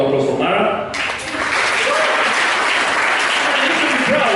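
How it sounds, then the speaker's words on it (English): Audience in a comedy club bursting into loud, sustained applause that fills the room close up, beginning just under the end of a voice and continuing steadily throughout. "let's have a round of applause for Mara."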